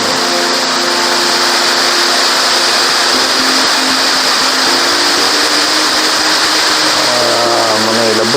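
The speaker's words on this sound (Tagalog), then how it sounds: "Amo na siya guys ang Mag-Aso Falls diri sa may Kabangkalan." Mag-Aso Falls in Kabankalan City, Negros Occidental, gives a loud, steady roar of falling water that fills the whole stretch with an unbroken broadband rush, with a faint hum joining near the end.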